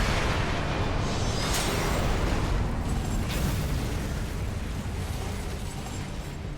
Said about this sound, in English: They've got the purple AoE missiles.